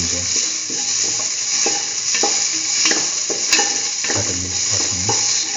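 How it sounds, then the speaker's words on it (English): Chayote and bell pepper pieces sautéing with onion, garlic and ginger in a pan give a loud, steady sizzle, broken by repeated scraping and clinking strokes of stirring. "thoroughly sauteing."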